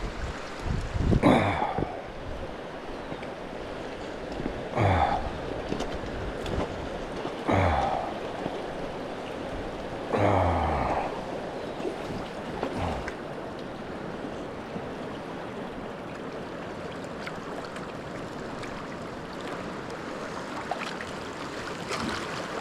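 River water rushes steadily around someone wading deep through the current while camping at Skresanden, with several louder splashing surges breaking through the constant watery hiss.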